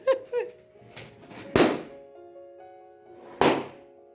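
Inflated balloons are popped at a home birthday celebration, with two sharp, loud bangs about two seconds apart over faint background tones and light noise.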